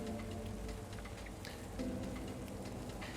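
Rain falls steadily in Tomb Raider The Angel of Darkness, a quiet continuous patter on surfaces with no voices over it.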